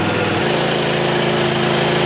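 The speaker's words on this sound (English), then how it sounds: "So let's turn the engine over and make sure everything's working properly." A lawn mower engine, just fitted with a new aftermarket air filter, runs loud and close with a steady throbbing drone, its tone shifting briefly at the start before settling.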